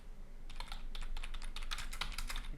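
Steady clicking of keys on a computer keyboard during data analysis work, close and fairly continuous for a couple of seconds with no talking.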